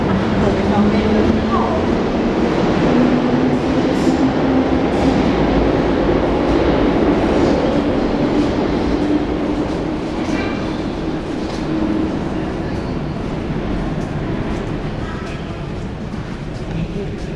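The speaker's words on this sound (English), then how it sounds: "So we can see some trains through here." Underground trains roll through a station in a long, loud, continuous rumble, with faint metallic squeals and clatter riding over the roar.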